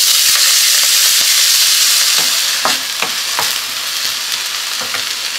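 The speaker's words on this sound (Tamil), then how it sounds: "ஸ்ப்ரிங் ஆனியன் வந்து ரொம்ப நேரம் வதக்க வேண்டாம், நம்ம லைட்டாக வதக்கினா போதும்." Spring onion sautéing in a pan for a Tamil rice dish, giving a steady bright sizzle with several short stirring scrapes and clacks, close and fairly loud, with no voices.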